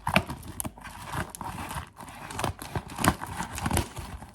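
A package is cut open by hand, giving a series of sharp crinkling, tearing and rustling bursts in an irregular rhythm, close and fairly loud, with no speech.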